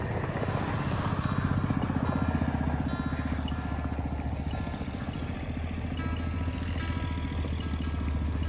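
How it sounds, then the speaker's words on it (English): An old Frick steam tractor engine runs steadily, with a continuous low, rhythmic chugging rumble at a fairly even level throughout and no talking. "this is a Frick right here. And these are old steam tractors"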